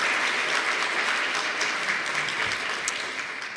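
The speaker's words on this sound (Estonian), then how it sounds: "teeme suur aplausi" Sustained applause from an audience at a talk or presentation, a steady dense wash of clapping that holds at a fairly even level throughout with no voices over it.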